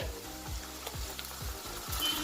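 Finely chopped tomatoes, four or five of them, frying in a pan for a chukkakura tomato curry, a quiet continuous sizzle with a regular series of low scraping stirs about every half second.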